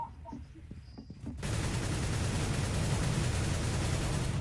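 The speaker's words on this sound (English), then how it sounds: "That was just panic firing." Sustained panic gunfire in a video game, a continuous dense roar of rapid automatic shots erupting after a second and a half of quieter sounds, loud and unbroken to the end.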